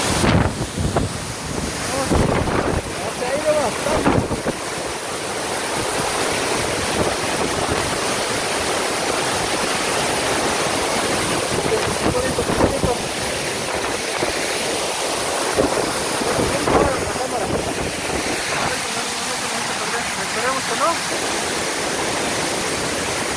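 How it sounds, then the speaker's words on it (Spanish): Waterfall spray at Cascadas El Chiflón falling like rain with gusting wind, a constant broadband roar with strong wind buffeting on the microphone and occasional louder bursts close by. "Acá está fuerte ya la lluvia que nos está cayendo."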